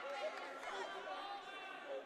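Basketball arena crowd murmuring and grumbling in discontent after a no-foul call, a steady mid-level babble of many voices with no single clear shout, fairly loud throughout.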